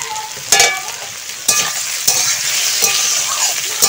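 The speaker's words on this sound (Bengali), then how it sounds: "তো ওইদিকে কপিটা ভাজছি" Cauliflower frying in a pan for a mixed vegetable dish, a loud, close sizzle punctuated by several sharp clanks and scrapes as the pieces are moved around.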